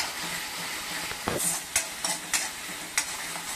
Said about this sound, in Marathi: छानसं आपण 5 मिनिटं परतूया याला